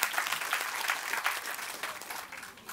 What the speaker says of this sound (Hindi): तो एक बार दोनों बहनों के लिए जोरदार ताली बजा दीजिए।